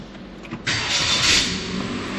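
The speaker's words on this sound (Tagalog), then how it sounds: "Push engine to start." A bank-repossessed sedan's engine starts by push button, cranking briefly and then catching into a steady, moderately loud idle with a slight rev.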